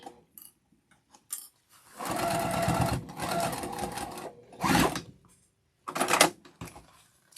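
Sewing machine backstitching a half-inch seam on a boxy bag, with a few short taps followed by a sustained run of fast stitching and two brief closing bursts.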